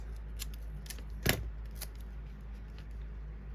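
Scissors cutting a piece of cardstock in half during card making: a few faint metallic snips with one sharper, louder cut near the middle, over a steady low hum and no speech.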